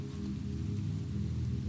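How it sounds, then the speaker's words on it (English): Gentle rain tapping against a windowpane, a soft, steady patter with no voices. "The rain, as if pleased, tapped a little more steadily."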